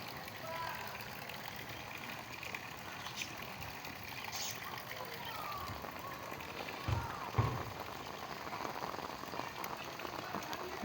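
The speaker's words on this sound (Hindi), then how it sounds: "ज़बरदस्त बारिश।" Heavy rain falls steadily on a terrace garden, a constant dense hiss of drops with a few louder splashes and knocks. It sounds fairly faint overall.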